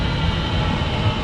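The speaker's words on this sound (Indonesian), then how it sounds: "ini adalah LRT" A light rail LRT train at Bandar Tasik Selatan station in Malaysia gives a steady, loud rumble with broadband rolling noise and no pauses, heard alone without talk.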